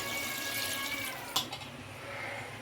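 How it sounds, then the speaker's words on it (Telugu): Water pours close by into a cooking pot of goat head curry with a splashing, gurgling flow, ending in a brief clatter midway before the pouring continues more softly. "నేనైతే మామూలుగానే పోస్తున్నాండి వాటర్"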